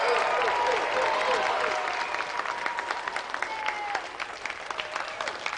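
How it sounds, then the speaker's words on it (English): Studio audience applause from a TV games show, steady dense clapping and cheering that thins slightly toward the end, loud and without talk over it. "So let's have another round of applause for Carl Lewis, Colin Jackson, Linford Christie."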